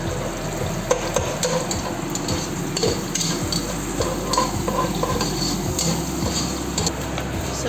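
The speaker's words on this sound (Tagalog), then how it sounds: "ilagay na yung onions. Nauuna po yung onions kasi mas matagal na i-fry" Onions fry in a pan for a Chicken Marag dish, a dense, continuous sizzle dotted with rapid crackles and the scrape of stirring, loud and close throughout.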